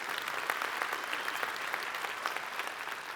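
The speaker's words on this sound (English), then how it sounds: "Can you give him a round of applause for Brad?" Steady applause from an audience, dense continuous clapping that holds at an even level throughout, with no voices standing out.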